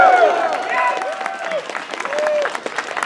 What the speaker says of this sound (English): Round of applause for the camera in the middle of the room.